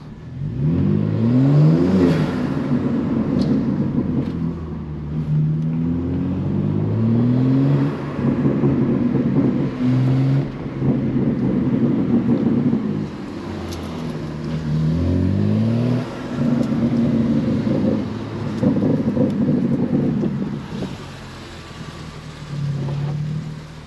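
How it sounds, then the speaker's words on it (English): A BMW M3 G80 rolls over a series of brutal speed bumps, its engine rising and falling in repeated bursts, with occasional scraping from underneath, steady and close throughout with no talk. "These speed bumps are brutal."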